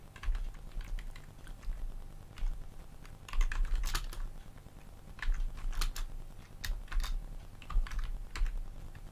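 Quick irregular clicks and taps from a computer keyboard come in bursts with short pauses, close and fairly quiet, over a low background hum.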